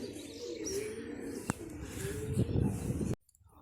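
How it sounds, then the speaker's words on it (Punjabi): Pigeons coo softly and repeatedly close by, a low throaty burble with a faint chirp in the background, cutting off abruptly near the end. "ਕਬੂਤਰ ਆਪਣੇ ਬਾਈ 5 6 ਬੈਠ ਗਏ ਆ"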